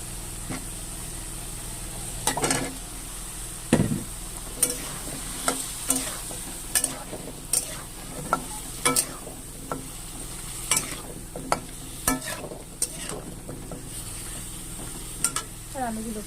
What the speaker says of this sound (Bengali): আর আলুগুলোকে একটু ভেজে নেব।